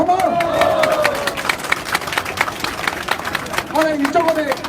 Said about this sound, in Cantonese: 俾掌聲大家，好唔好？